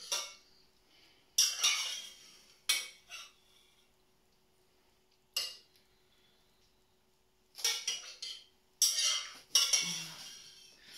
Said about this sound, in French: je vais étaler en fait avec la spatule